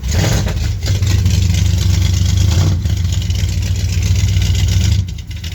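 A 1970 Ford F250 engine runs after a cold start, a loud, steady, close-up rumble that holds nearly constant and eases off slightly near the end.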